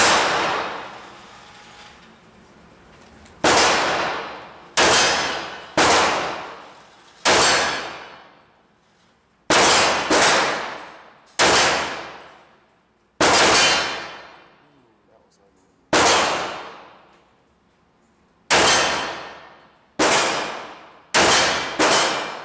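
Shots from a Para 1911 G.I. Expert pistol fired at 10 yards ring out loud and sharp, about a dozen cracks with irregular spacing and ringing decays, some in quick pairs, with no talk.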